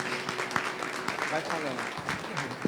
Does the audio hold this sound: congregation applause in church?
yes